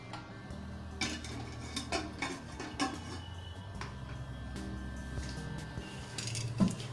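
A metal idli stand being set into a pressure cooker of hot water in a home kitchen, giving scattered clinks and clatters of metal on metal over a steady low background hum.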